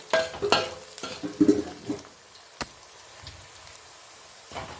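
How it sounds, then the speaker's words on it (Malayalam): Shallots, garlic and ginger frying in a pan, a soft steady sizzle with repeated stirring scrapes and clinks near the start, settling into a quieter sizzle, no voices. "ചെറിയ ഉള്ളിയും വെളുത്തുള്ളി ഇഞ്ചിയൊക്കെ നല്ലോണം മൂത്ത് വന്നിട്ടുണ്ട്"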